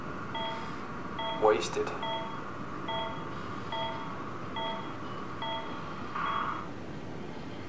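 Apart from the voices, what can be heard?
beeping sound from the video game Soma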